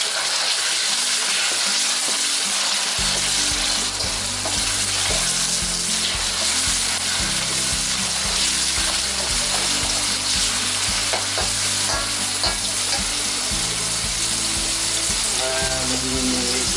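Chicken stir-fried in a pan for mixed fried rice sizzles loudly and steadily throughout, with the scrape and clatter of stirring running over the frying.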